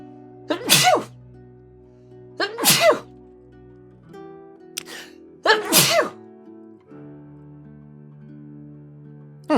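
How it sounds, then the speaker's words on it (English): A person sneezes three times in a row, each a loud, close burst separated by a couple of seconds, with quiet room tone and a faint small noise between them. "That was quite the sneeze."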